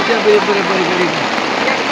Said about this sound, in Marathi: सागर कसा काय पावसात हा मस्त आहे ना